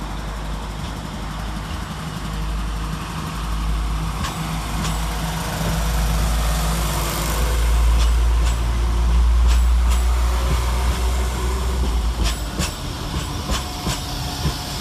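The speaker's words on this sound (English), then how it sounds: "Next out we see the departure of 172211 and 172337" Class 172 diesel multiple unit trains pull away from Birmingham Snow Hill station, a steady deep engine rumble swelling and then easing, with occasional clicks and squeals from the wheels.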